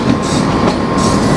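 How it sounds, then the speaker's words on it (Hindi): The Malwa Express pulls in beside the platform at Udhampur station with a steady, loud rumble of rolling wheels and carriages and a faint sustained squeal, heard up close and with no voices. "अभी ये गाड़ी हमारी उधमपुर स्टेशन पे प्लेटफॉर्म पे लगती हुई"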